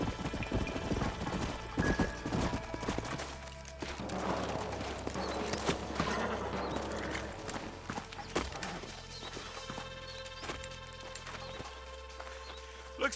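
Horses' hooves clip-clopping on the ground in Red Dead Redemption, an irregular run of clattering thuds under a busy game soundscape with scattered sharp knocks, low rumble and occasional character voices.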